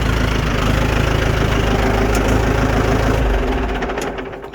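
A rebuilt two-wheel-drive 6600 tractor engine idles close by with a steady, dense rumble and a knocking texture. The sound holds even for several seconds, then drops away as the engine slows near the end.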